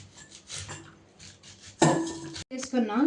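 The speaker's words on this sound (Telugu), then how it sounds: "స్వీట్ కార్న్ని ఇలా కట్ చేసుకోవాలి." A kitchen knife slices through fresh sweet corn for pakoda, giving a run of soft scraping cuts and utensil clatter up close, growing into louder, denser scraping bursts toward the end with a brief pause between them.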